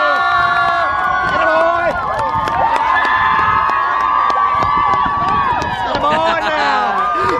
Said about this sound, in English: I hope you guys didn't expect anything more than just screaming and obnoxiousness and then more screaming